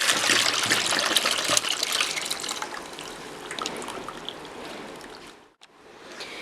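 Water pours and splashes steadily as it is drained off pickled cucumbers in a kitchen, a continuous close, loud rush that cuts out briefly near the end before trickling again.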